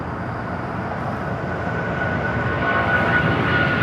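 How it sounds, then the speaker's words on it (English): A Boeing 777 jet airliner bound for New York JFK rolls down runway 25 right at LAX, its engines a steady broad roar that builds slightly louder over the few seconds, heard alone. "got that 777 heading to New York, JFK, now rolling down at 25 right"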